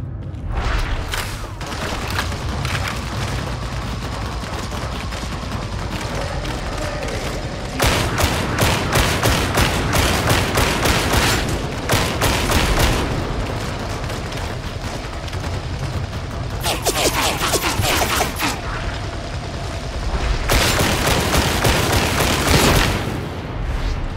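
Enemy ranged gunfire in the Warhammer 40,000: Darktide video game, with bursts of rapid shots and booming impacts crackling in repeated volleys over a steady rumbling combat background.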